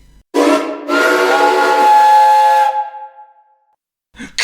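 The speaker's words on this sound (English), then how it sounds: "accidentally pressed a button, making it let off steam with a deafening din" A steam locomotive lets off steam with a deafening whistle. The loud, close blast is a hissing whistle that sounds for about two seconds, then fades away and drops into silence.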